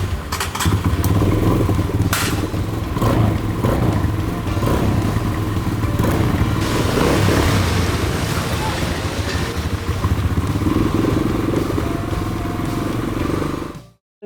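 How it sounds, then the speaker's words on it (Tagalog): A Kawasaki KLX 140 RF trail motorcycle, brand new, revs loudly and continuously at a dirt trail site, its engine note rising and falling with gear changes for about fourteen seconds before cutting off abruptly. "Test natin itong KLX 140 RF para malaman natin kung ano yung performance niya at kung gaano siya katibay."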